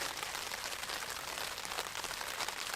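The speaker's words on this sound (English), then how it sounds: "It's starting to rain a little bit." Light rain falls outdoors during a rainy, windy overnight camping trip, a soft, even hiss of drops that stays faint and constant throughout, with no voices.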